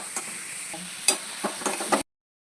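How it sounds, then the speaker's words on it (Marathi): Masala paste with tomatoes sautéing in a pan, a steady close sizzle with a few clicks of stirring for about two seconds before it cuts off. "आता हे टोमॅटो टाकून पण आपल्याला वाटण व्यवस्थित थोडं परतून घ्यायचं 5 मिनिट."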